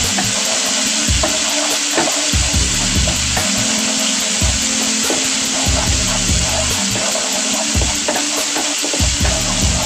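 Spices with galangal, lemongrass, lime leaves and bay leaves fry and get stirred in a pan, a loud continuous sizzle broken by repeated scraping and clattering stirs, with no talking.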